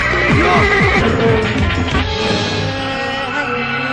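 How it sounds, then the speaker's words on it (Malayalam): A loud, close horse whinny, a shrill wavering neigh that breaks into rapid trembling pulses before fading. "ഇതാ കുതിര"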